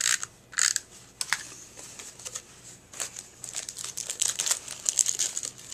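Tape being pulled and pressed onto a paper treat bag for a Stampin' Up jar-themed craft, heard as close, irregular crinkling and crackling bursts with short rips, fairly quiet and with no talking.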